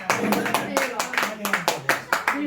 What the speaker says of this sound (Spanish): Emili, muchas gracias, un aplauso